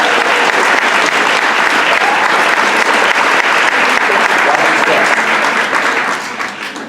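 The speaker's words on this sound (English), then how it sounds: "Round of applause for this one from El Salvador, yeah?" Loud, dense audience applause in a conference hall, sustained and even for several seconds before tapering slightly at the close.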